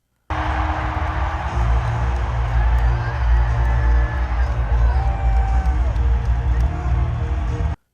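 A home arena crowd roars as Mark Stone lifts the Stanley Cup, a loud, sustained wall of cheering and whooping that holds steady from start to finish.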